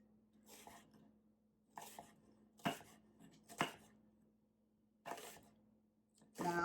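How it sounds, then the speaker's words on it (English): A knife chops onion on a cutting board in about six separate sharp, close cuts, irregularly spaced with quiet gaps between them. "I'm gonna cut another one because I just like onions like that"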